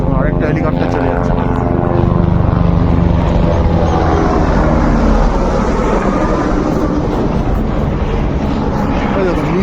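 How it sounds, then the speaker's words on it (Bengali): Another helicopter passes below in the mountains near Baltal, a loud, close, continuous rotor and engine drone sustained for the whole stretch. "দেখুন নিচ দিয়ে আরেকটা হেলিকপ্টার যাচ্ছে।"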